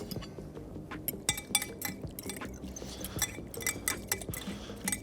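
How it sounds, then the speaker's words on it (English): Soy sauce stirred into a garlic, ginger and lime mixture in a bowl, a steady run of light clinks and scrapes from a utensil against the dish, close and moderately loud, with a faint wet squish. "Stir it around."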